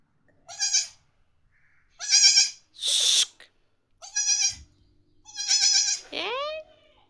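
A two-day-old lamb bleats several times in short, high, wavering calls, close by and fairly loud, with quiet pauses between them; a brief low sound and a faint voice appear once.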